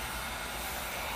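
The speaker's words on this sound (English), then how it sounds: "I hope y'all can hear me over this little dryer" Small hair dryer blowing steadily at close range while drying a homemade sled, a continuous broadband whoosh with no pauses.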